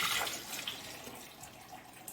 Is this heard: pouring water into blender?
yes